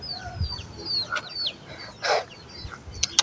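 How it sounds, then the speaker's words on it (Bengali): A chicken clucks in short, repeated calls close by outdoors, with a few chirping birds and faint rustling around it. "দেখো দেখো মুরগি ধরবো"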